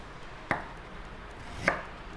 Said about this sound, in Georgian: წვრილად ჭრით ჯინჯერს